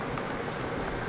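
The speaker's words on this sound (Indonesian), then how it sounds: "Hujannya gede." Heavy rain pours down during a motorcycle ride through congested traffic, a dense, steady wash of noise with no breaks, loud and close for the whole moment, with no voices over it.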